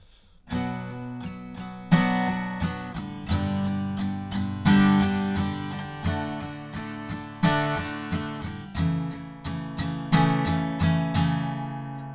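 Acoustic guitar played without a capo through the verse of a song, steady strummed chords with regular accents, close and clear, no voices.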